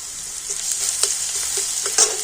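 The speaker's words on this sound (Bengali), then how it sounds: "তো ওই তেলের মধ্যে প্রথমে একটু আমি কালো জিরে দিয়ে দিচ্ছি তারপর দিয়ে দেবো রসুন" Nigella seeds and garlic frying in hot oil, a bright crackling sizzle with scattered spoon scrapes and little pops, close and fairly loud with no voices.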